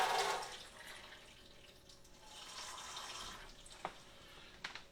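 Filtered cold water runs from a kitchen tap, a steady soft stream that fades in and out over a few seconds, with small clinks of a spoon or dish near the end.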